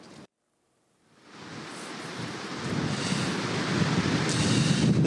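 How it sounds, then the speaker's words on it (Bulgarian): Strong wind roars over rough sea waves on the Bulgarian Black Sea coast near Varna, a broad rushing noise that builds steadily after a brief silence, loud and close with gusty surges. "Заради силния вятър вълнението на морето достига 3-4 бала, а в открито море до 5 бала."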